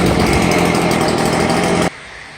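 A Stihl BG 85 leaf blower's small engine roars loudly and steadily at high revs, then cuts off abruptly near the end, leaving a quiet hiss.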